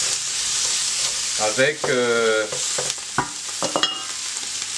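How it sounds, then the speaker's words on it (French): Boucané, smoked pork, fries in hot oil with a loud, steady sizzle and crackle, while a voice briefly talks over the cooking. "je vais pouvoir ajouter mon boucané que je vais laisser frire"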